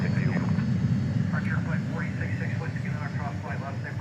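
An MD-11 aircraft at DFW Airport at night produces a steady low engine rumble from a distance, while someone talks throughout.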